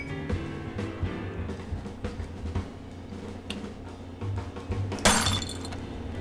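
A beer glass breaking indoors, a sudden bright shatter near the end after scattered clinks and knocks against a low room murmur.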